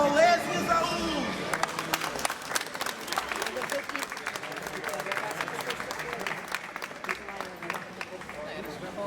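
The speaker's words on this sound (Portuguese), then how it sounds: "peço nova salva de palmas" Sustained audience applause fills a hall during the award ceremony of a national Carcassonne board game championship final, a dense, steady clatter of many hands lasting throughout with faint crowd murmur underneath.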